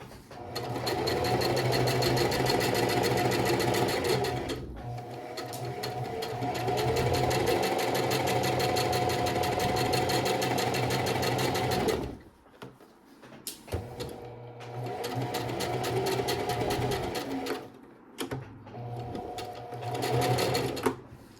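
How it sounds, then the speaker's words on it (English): A sewing machine stitches a kimono seam in long, steady whirring runs, close and loud, broken by brief stops and short bursts where it backstitches before sewing on. "I'm gonna backstitch and continue sewing"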